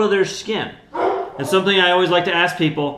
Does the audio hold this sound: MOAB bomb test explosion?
no